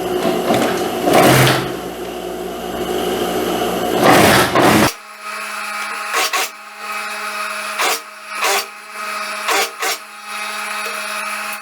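A sewing machine stitches a lined skirt with a box pleat. It runs in loud bursts: one long whirring run, then a sharp stop, then a series of short rhythmic stitching spurts separated by pauses.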